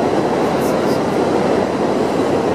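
A New York J subway train rolls along with a dense, steady rumble and rail hiss, plus a couple of brief high wheel squeals early on; no one speaks.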